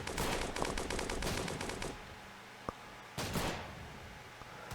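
Rapid gunfire in the Roblox game Battle Tycoon: a fast automatic burst of about two seconds, a lone sharp shot, then another short burst that fades into quieter game ambience.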